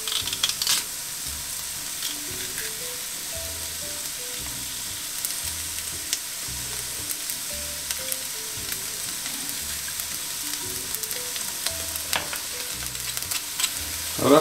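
Onions and crushed garlic sweat in olive oil in a pan, giving a constant gentle sizzle under soft background music, with occasional light clinks.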